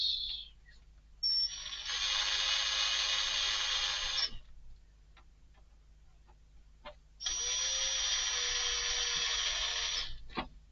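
Two sustained bursts of a high-pitched power drill whirring into material to make guide indentations while building a Tekno SCT410 2.0 kit, a few seconds each, separated by a quiet gap with light handling clicks.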